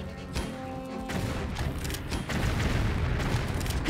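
Heavy weapon firing with large ammunition in the video game Tomb Raider IV, a dense run of loud booming blasts and rumbling impacts that builds in strength, close and continuous without talk.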